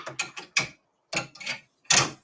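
A multi-needle embroidery machine stitches a heavy satin stitch for a Christmas design in short bursts of rapid mechanical clatter. Several bursts are separated by brief silent pauses, close and fairly loud.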